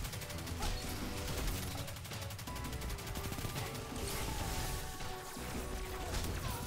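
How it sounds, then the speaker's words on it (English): SMG hip fire in Destiny 2 sounds as rapid, steady automatic bursts, a dense rattling stream of shots running almost nonstop under a busy game mix, fairly close and even in level. "Hip fire with an SMG is so nice."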